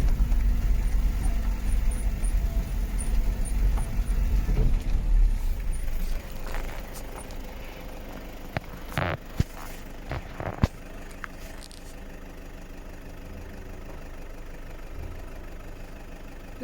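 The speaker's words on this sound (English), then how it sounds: "So I'm just driving in the lane." A farm vehicle engine idles and rumbles steadily while driving down a country lane, loud and close at first, then easing off, with a few sharp knocks and clatters later on.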